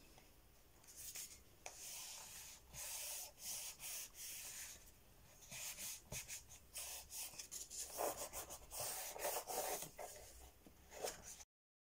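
Paper page being pressed and rubbed flat with the hand to glue it inside a book cover, a soft dry rasping that comes in repeated short strokes, close and fairly quiet, with no talking.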